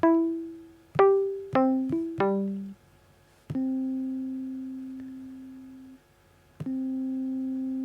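Mellow Rhodes electric piano notes from GarageBand for iOS ring out alone, a quick run of plucked tones followed by two long sustained notes that fade slowly with echo and reverb.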